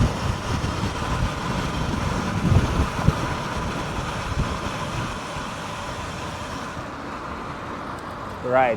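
Cars in traffic pass a road bike on a moderate downhill with no tight turns, under a steady, loud roar of wind and road noise that runs the whole way, easing slightly near the end.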